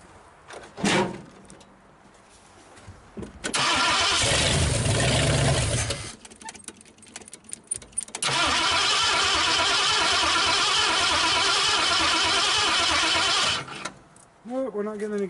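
A 1959 Ford Galaxie Fairlane 500, trying for its first start in years with fuel not reaching the carburetor, cranks loudly in two long bursts separated by quiet gaps, with brief clunks at the start and end.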